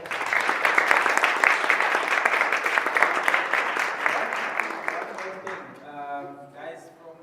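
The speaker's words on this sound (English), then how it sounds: "Neo, can you give a round of applause?" Audience at a youth tech event gives a sustained round of applause, dense clapping filling most of the clip before thinning out near the end, with voices emerging under it.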